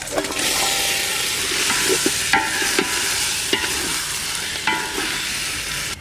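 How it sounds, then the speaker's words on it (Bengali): Goat meat for a Bengali light curry tips into a pot of fried spice masala, sizzling steadily, with a ladle stirring and scraping in repeated sharp knocks and clatters, no voices. "মশলা কষানো হয়ে গেছে, এবার মাংসটা দিয়ে দেবো, সবটা ঢেলে দিই।"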